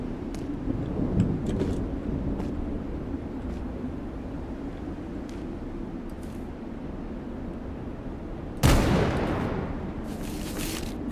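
Explosions and gunfire in the hostile, overgrown megastructure of the video game Metal Garden: a low rumbling wash of distant combat, then a sudden loud blast near the end with crackling bursts trailing after it.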